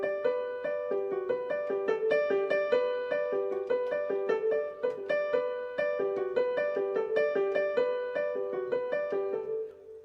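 A guitar plays a resultant melody, a bright, rhythmic run of plucked notes repeating in a tight interlocking pattern, clear and close, with no talking.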